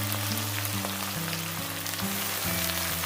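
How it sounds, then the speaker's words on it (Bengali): Boiled vegetables sizzle and crackle loudly in hot mustard oil, a dense, steady fry close up with faint stirring shifts and no voices. "তেলটা ভালো করে গরম হয়ে গেলে তারপরে সেদ্ধ করে রাখা যে সবজিগুলো সেগুলো আমি এর মধ্যে দিয়ে দিচ্ছি"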